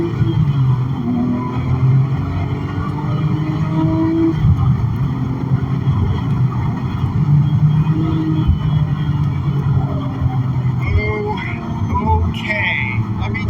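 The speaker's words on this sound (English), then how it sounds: "I'm going to put the mic in the back, just in the cabin here, to be able to hear the engine" A Porsche GT2 engine pulls hard under acceleration, caught from inside the cabin as a steady loud drone with rising harmonic tones and a constant wash of road and wind noise.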